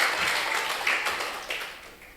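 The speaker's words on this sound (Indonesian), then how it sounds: "Beri tepuk tangan yang luar biasa bagi Tuhan." Congregation clapping for God during a Sunday worship service at a Pentecostal church, a steady patter of many hands at moderate distance that slowly fades.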